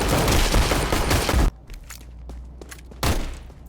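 Video game gunfire crackles in a dense, rapid burst, gives way to quieter thuds and footsteps, then a second loud volley erupts near the end.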